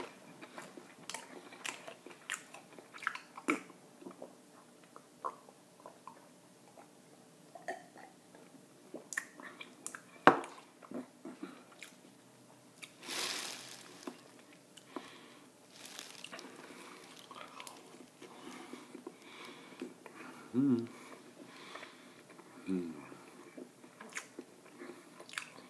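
Close, soft chewing and biting on a White Castle burger with onions and cheese, wet squishy mouth sounds and small crunches scattered across a quiet background.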